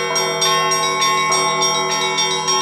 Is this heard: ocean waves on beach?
no